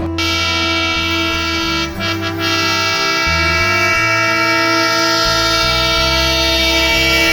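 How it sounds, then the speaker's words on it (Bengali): Rupsha Express, the 728 Down bound for Khulna, runs through Azimnagar station on line one behind a 6900-series locomotive, a loud, steady rumble of wheels and coaches with a brief dip near the two-second mark, no voices. "খুলনাগামী সাতশো আঠাশ down Rupsa express Azamnagar rail স্টেশনের এক নম্বর লাইন দিয়ে থ্রু পাস করে চলে যাচ্ছে"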